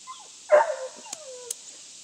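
Dogs across a street give a short bark and then a drawn-out whimpering whine, faint and at a distance, with a few soft clicks in a quiet outdoor setting and no one talking.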